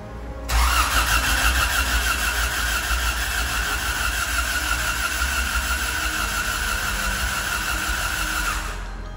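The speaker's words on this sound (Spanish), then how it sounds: "Desafortunadamente no grabé el primer encendido verdadero, pero este es el segundo." A Honda CRX del Sol engine, freshly swapped after restoration, cranks and catches, then settles into a steady, loud, close idle that holds for several seconds before cutting off.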